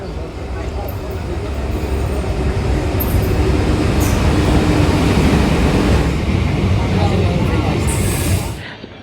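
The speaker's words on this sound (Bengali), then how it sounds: "এখন একটা ট্রেন চলে আসছে।" A train arrives at a railway station platform, its heavy rumble swelling over several seconds, holding close and loud, then cutting off abruptly at the end.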